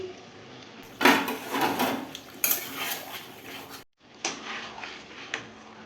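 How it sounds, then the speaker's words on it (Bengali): A lid comes off a pot of chicken cooking in sour yogurt, heard as close metallic clanks and scrapes of cookware, a brief loud rattle, a short silence, then further lighter clinks. "5 মিনিট পরে ঢাকনা খুলে দেখছি।"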